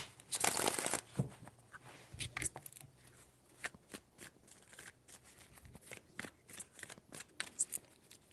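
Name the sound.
shuffling tarot cards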